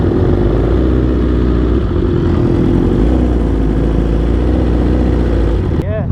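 Several loaner motorcycles rev and idle at a TNR motorcycle meet in Melbourne, producing a steady, loud engine rumble throughout with some swelling revs.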